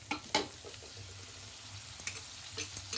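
Tomatoes frying in a pan with already sautéed onions for a spicy Tamil kuzhambu, giving a soft steady sizzle with occasional brief stirring clinks and scrapes, alone and close.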